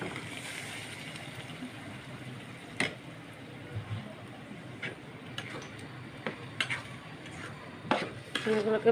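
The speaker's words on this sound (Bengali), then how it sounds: "ভালো করে কষাতে হবে" Blended coconut and softened onion are stirred in a pan, steady low sizzling under scattered sharp clinks and scrapes of a spoon against the metal, fairly faint and close.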